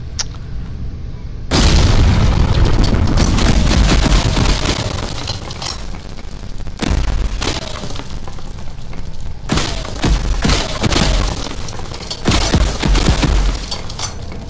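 In a VR ghost town mine ride shooting gallery, a sudden heavy explosion booms out after a quiet moment, followed by more rumbling blasts and thuds that come and go at close range.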